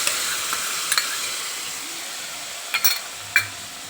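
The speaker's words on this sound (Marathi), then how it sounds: "आता मी टाकणार आहे याच्यात दही." Yogurt goes into fried masala for a soybean curry, giving a soft steady sizzle with faint hiss and a few light stirring clicks, quiet and close, with no talking.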